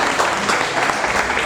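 A church congregation applauds in a dense, even wash of clapping, brief and fairly loud, with no speech over it.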